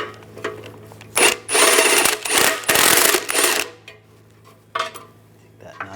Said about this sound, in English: I'm going to use an 18mm socket.